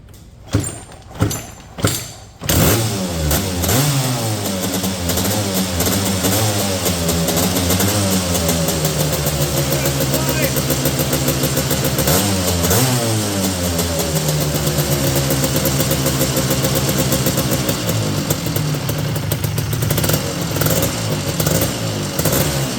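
A 1988 Suzuki LT250R ATV engine gives a few sharp kick or crank attempts, then fires up and runs loud and close, revving up and down repeatedly with a rough two-stroke drone.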